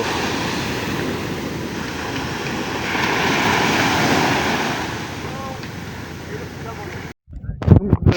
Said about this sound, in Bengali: যখন আবার ঢেউ চলে যায় স্তব্ধ হয়ে যায় একদম স্তব্ধ